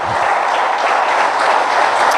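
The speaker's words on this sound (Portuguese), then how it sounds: "Vamos aplaudir ao Senhor nosso Deus." Church congregation applauding together, a loud, steady wash of many hands clapping throughout with no gaps, filling the room.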